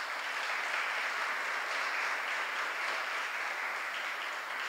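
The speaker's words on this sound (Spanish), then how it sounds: "la recibimos con un fuerte aplauso a Daisy Jiménez." An audience at a journalism conference applauds, a dense, even wash of clapping that holds steady from start to finish with no voices over it.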